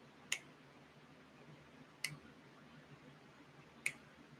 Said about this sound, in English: I'm sorry, I'm snapping my fingers.